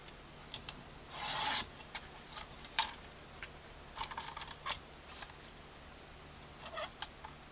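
Paper journal cards cut from 6x6 patterned sheets being trimmed, with a brief rasping cut followed by scattered light ticks, taps and scrapes, close and quiet with no talking.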